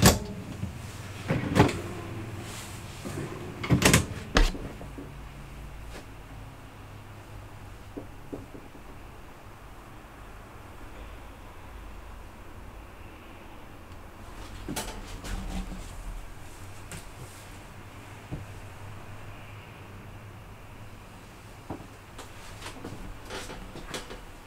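Cabinet drawers in a 2022 Lance 1985 travel trailer slide and bump open and shut, a few sharp knocks and rattles early on, then softer sliding thuds mid-way through a long, otherwise quiet stretch.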